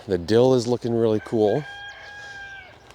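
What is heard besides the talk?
chickens clucking and crowing in the background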